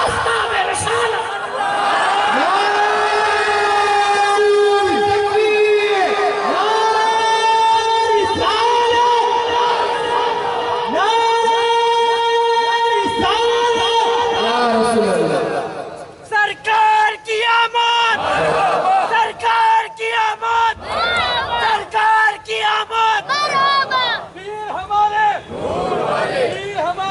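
At a religious gathering, a large crowd shouts a slogan back in unison, long sustained chanted phrases followed by a run of shorter, choppier collective shouts, loud and close.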